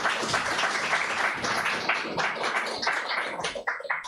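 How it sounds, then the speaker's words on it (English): Audience applause following a poetry reading at a book launch event, a dense continuous patter of many hands clapping throughout, fairly close and steady, with no voices. "Another round of applause for Maya"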